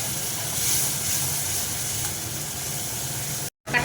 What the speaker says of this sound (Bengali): যে মশলাটা গুলে রেখেছিলাম সেই মশলাটা একটু একটু জল দিয়ে দেবো